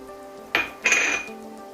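Butter, about one to one and a half tablespoons, dropped into a pan on low to medium-low heat for nachos, giving a short clatter and then roughly half a second of bright hissing before it fades.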